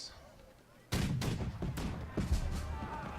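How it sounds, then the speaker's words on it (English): British cannons in the Napoleonic battle game March to Glory boom in a rapid volley of sharp, loud blasts, one after another in an uneven rhythm with a rumbling tail. "their British cannons are playing amazingly today"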